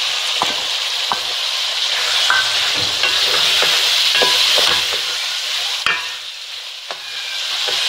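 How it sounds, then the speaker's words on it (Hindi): Cauliflower added to a hot frying pan for mixed vegetable sabzi and stirred, a loud continuous sizzle with repeated spoon scrapes and knocks against the pan. "अब हम इसमें ये गोभी डालेंगे। ये फूल गोभी है मेरे पास।"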